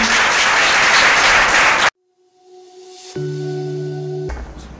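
Audience applause at a school speech competition, a dense burst of clapping that stops abruptly after about two seconds and gives way to a quiet hall with a tonal hum.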